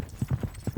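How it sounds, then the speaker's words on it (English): Horse hooves clip-clop at a steady walk during a trail ride at Moke Lake campsite in New Zealand, five distinct close thuds in an even rhythm over quiet background. "we're going horse riding"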